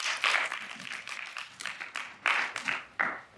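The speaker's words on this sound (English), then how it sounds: "Can we have a round of applause for her for showing us how to use the index?" Scattered handclaps from a small lecture audience come in uneven bursts, fairly faint and thinning out over a few seconds.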